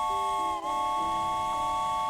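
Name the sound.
train whistle in the Tracks train set video game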